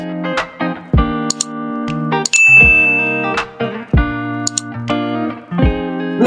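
Notification bell sound effect in a French electronics repair tutorial, a series of bright electronic dings and chimes with a processed, slightly distorted tone, several strikes in quick succession, loud and alone.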